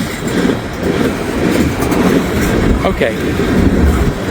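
Slow train rolling past on a cold day, a loud continuous rumble with rhythmic wheel clatter and a faint squeal, close by, with a person speaking briefly over it.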